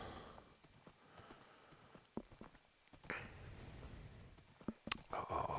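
Horse hooves clip-clop in Minecraft, a string of uneven close hoof taps with faint clicks in between and no talk.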